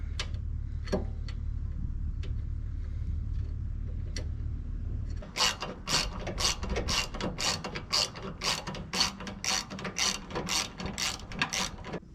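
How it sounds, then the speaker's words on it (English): A ratchet tightens screws on rear highway bars being installed on a 2022 Indian Chieftain motorcycle, a rapid run of sharp clicking strokes in quick bursts after a few quieter taps and a low hum. "with the bag out of the way, it's much easier, hopefully, to attach these screws"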